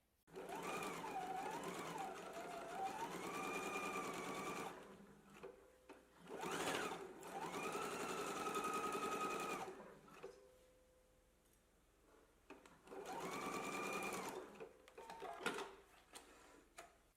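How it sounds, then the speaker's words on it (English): A sewing machine stitches darts on a garment in three steady runs of whirring, rattling needle action, separated by short quiet pauses and clicks as the fabric is adjusted. "Let's go ahead and stitch our darts in place now."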